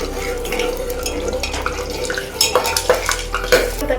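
Mutton curry being stirred in a pot just after sugar goes in, with a busy mix of metal spoon scrapes, clinks and wet bubbling close by, irregular and continuous.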